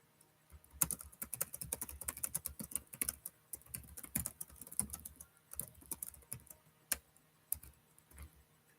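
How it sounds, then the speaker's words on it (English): Someone types on a computer keyboard at close range, a quiet, irregular patter of key clicks with a few sharper taps and brief pauses, with no voices present. "So I typed that wrong."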